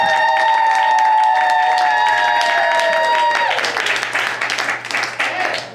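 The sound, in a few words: audience applause and cheering at a live comedy show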